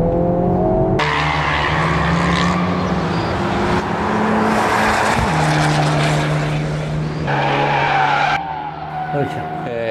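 A Honda Civic Type R FL5 demo car on Potenza RE71RS tyres laps a racing circuit, its engine roaring and revving up through gears in loud sustained passes, with tyre noise and a commentator talking over it.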